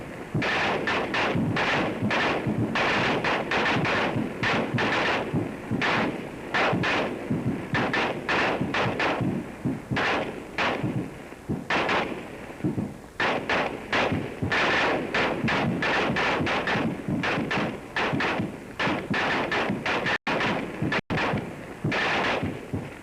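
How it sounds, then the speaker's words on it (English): Twelve M1 rifles fire in dense, overlapping volleys from close range, as a soldier under fire would hear them, with rapid sharp cracks and booms sustained without pause throughout. "listen to the complete sound of these 12 M1s as the soldier under fire hears them."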